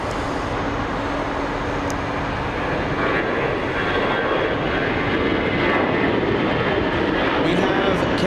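A Boeing 747-400 freighter jet at Los Angeles International Airport makes a loud, continuous engine roar that holds steady throughout, heard from a moderate distance.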